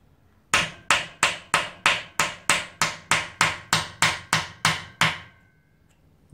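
A hammer strikes metal in about fifteen evenly spaced, ringing taps, each with a short metallic decay, close and loud, then stops, during work on a stripped-down car steering rack.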